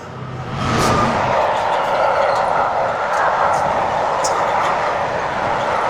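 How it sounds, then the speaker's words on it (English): A long train rolls past nearby, its loud continuous rumble and rattling wheels holding steady for several seconds without a break. "It's a fucking long train. Bloody long train, I tell you."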